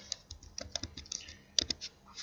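Irregular bursts of crisp key clicks as someone types on a computer keyboard, quiet and close, with short pauses between clusters of keystrokes.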